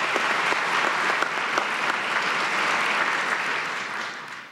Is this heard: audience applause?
yes